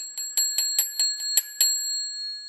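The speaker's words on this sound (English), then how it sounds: "bell action going on there" A small bell on a 12 volt coil device rings in a quick series of about eight bright, evenly spaced strikes, close and clear with no voices.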